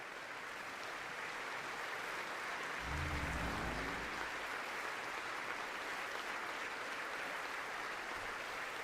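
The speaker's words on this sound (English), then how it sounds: "all these people do is clap" A large audience applauds steadily in a broad hall, a dense, even wash of clapping that carries on without a break and sounds somewhat distant and soft, with no one talking over it.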